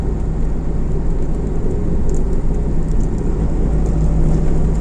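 A crowded city bus rumbles past close by, a loud, sustained low-frequency engine roar with road noise that holds steady throughout, with no talking.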